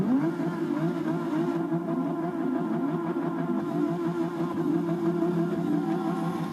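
Porsche race car engines rev together at the start of a race in Forza 6, a steady loud mid-pitched roar of several cars accelerating close by, with no one speaking.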